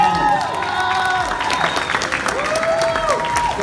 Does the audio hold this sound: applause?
yes